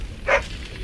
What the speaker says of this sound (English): Who's the cute and adorable puppy?